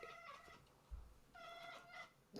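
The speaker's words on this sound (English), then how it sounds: "the cat's chirping" A house cat makes short chirping meows, two bright trilling bursts close by with a soft thump between them and no talk.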